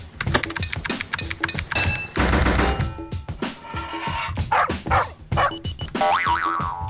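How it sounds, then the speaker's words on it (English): Dog barks and springy boing effects from the puzzle video game Pipe, a dense, loud run of short game sound effects with repeated barks amid chiming tones, no talking. "Stupid dog."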